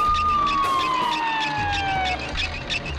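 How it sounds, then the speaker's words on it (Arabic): A video game ambulance siren wails loudly, sweeping downward in pitch over a busy, pulsing background of engine and electronic noise. "هاي سيارة الإسعاف، تعالوا بسرعة."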